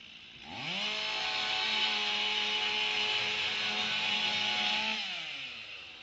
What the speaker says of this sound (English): The lead saw moves away from the first hole and cuts another 5-cut center rafter louver